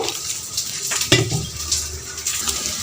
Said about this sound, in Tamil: தண்ணி ஊற்றி இப்போ நல்லா கரைக்க போகிறேன்